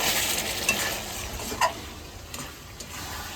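Mutton and onions cook in a pan, with a soft sizzle under scraping and stirring and a few light clinks of the utensil against the pan; no one speaks.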